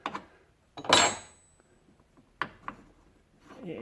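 A 5/8 wrench unlocks the nut on a Hornady neck turning tool, giving a few sharp metallic clicks and clanks with short pauses between them, close and fairly quiet.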